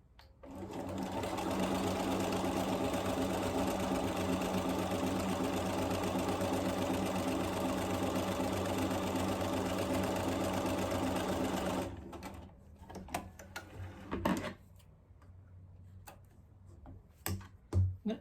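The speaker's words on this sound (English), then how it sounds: "I'm going to go ahead and sew again." A domestic sewing machine stitches fabric strips for crumb piecing in one long, loud, rapid continuous run, then stops abruptly, followed by quiet clicks and handling sounds.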